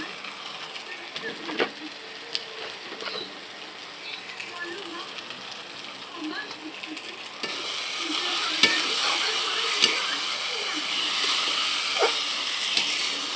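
Food frying in a pan over a wood fire with salt and water added, a soft sizzle with scattered stirring clicks that grows into a louder, denser hiss partway through, close and without clear talk.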